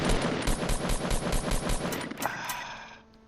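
Rapid automatic gunfire in a video game, a close, loud burst of evenly spaced shots lasting about two and a half seconds before cutting off into a brief fading tail.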